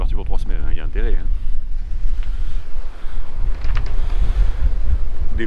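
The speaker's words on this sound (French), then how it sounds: "Des fois, on a des vagues qui viennent s'éclater sur le côté." Waves slap against the hull of a sailboat at sea during a transatlantic crossing, a steady rough wash under gusty wind noise, with voices talking over it at the start.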